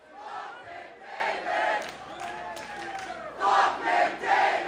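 A live hockey podcast audience sings and shouts along loudly in unison, a dense rowdy crowd swelling in bursts and staying strong throughout, with no clear individual speech.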